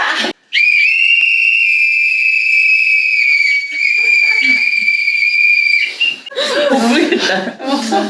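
A loud, shrill whistle blown in one long sustained blast, followed by people laughing and chattering.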